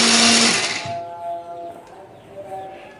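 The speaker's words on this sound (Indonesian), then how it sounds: "Bumbu ini akan kita haluskan menggunakan blender ya." Kitchen blender grinding a spice paste of turmeric, garlic, shallots, ginger and candlenut with a little water: a loud whirring burst for about a second that cuts off, leaving a fainter rattling hum and clatter.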